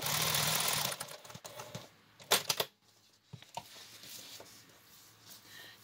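Bursts of a sewing machine stitching a paper-pieced crazy quilt from scrappy fabric pieces, short whirring runs separated by pauses and handling clicks, close and fairly quiet.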